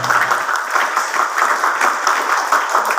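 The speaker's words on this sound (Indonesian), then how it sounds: "Tepuk tangan dulu buat yayasan." An audience at a school foundation event claps for the foundation, a steady burst of applause at moderate distance with no talking over it.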